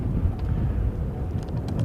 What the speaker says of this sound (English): We've got wind gusts here of over 50 kilometres an hour